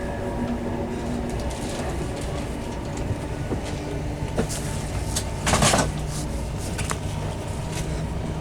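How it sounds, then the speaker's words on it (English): A cross-country passenger train to Bristol Temple Meads rumbles along steadily with a constant low roar, broken by a few faint clicks and one brief rattling clunk midway. "This is the 9:55 cross-country train service through to Bristol Temple Meads."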